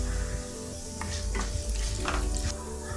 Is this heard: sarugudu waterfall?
no